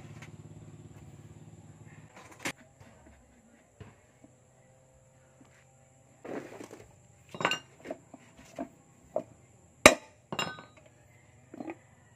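A hammer strikes metal to knock out the rear axle of a Bajaj RE auto-rickshaw, sounding as sparse sharp clanks and clinks at irregular intervals in a quiet workshop, with a few metallic rattles between blows.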